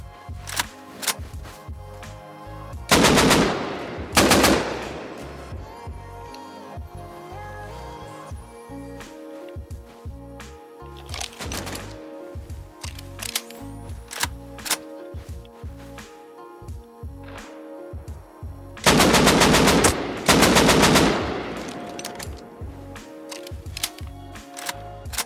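An AK assault rifle in the console game Rust fires two loud bursts of rapid automatic shots, widely spaced, with softer clicking and shuffling game sounds between them.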